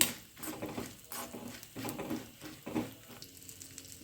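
Four dry red chilies sizzle and crackle in hot oil in a pan for a traditional Kannada home recipe, a steady soft frying hiss with faint stirring clinks, fairly quiet and with no talk.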